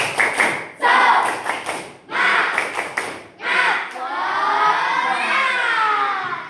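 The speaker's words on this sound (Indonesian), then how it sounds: "sekali lagi tepuk semangat." Pupils in a class repeat the rhythmic spirit clap, sharp patterned bursts of many hands clapping together with shouted chanting, ending in sustained loud group voices.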